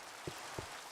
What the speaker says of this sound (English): But if we break here it rains.